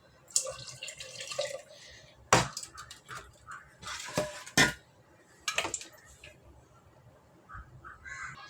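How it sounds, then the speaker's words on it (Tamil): Tamarind water is poured into a pot of simmering sambar, making a few close, short splashing and dripping bursts with light clinks of a pot or utensil, separated by quiet gaps. "கூட கொஞ்சம் புளி தண்ணி ஊற்றிக்கலாம் கொஞ்சமாக."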